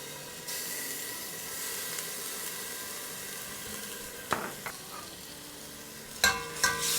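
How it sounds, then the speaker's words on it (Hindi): A steady, low sizzle of garlic and ginger paste frying in hot oil, joined by a few sharp clinks of a utensil against the pan toward the end. "चलो इसको हम थोड़ा सा सौटे करते हैं।"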